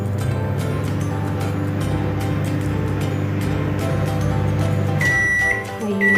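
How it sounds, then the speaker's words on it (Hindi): Microwave oven running for about 30 seconds to loosen garlic cloves on its glass tray, a steady loud hum that drops near the end, followed by a short high electronic beep. "30 सेकंड के लिए माइक्रोवेव करें"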